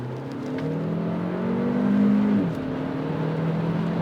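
A Hyundai Avante N Line accelerates at full throttle, its engine note climbing steadily in pitch from inside the cabin, then dipping at a gear change before pulling again, with no talk.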